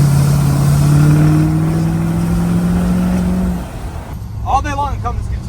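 An L5P Duramax diesel pickup revving and pulling hard as it drives, the engine note climbing steadily for a few seconds before easing off, after which a voice speaks over the lower engine rumble.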